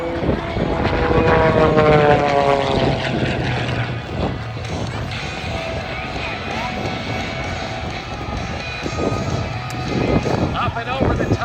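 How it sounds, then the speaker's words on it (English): An Edge 540 aerobatic airplane's propeller engine drones loudly through a loop at an airshow, its pitch sweeping as it climbs over the top, with an announcer talking over it. "Up and over the top now, as she pulls back on the stick, completing this, the big stop sign in the skies, the octagon loop."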